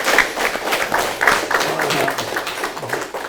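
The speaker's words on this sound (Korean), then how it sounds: "오늘 우리 박수로 끝내겠습니다" Audience applause closing a lecture hall talk by the EU ambassador, dense clapping throughout with scattered louder claps and some voices mixed in.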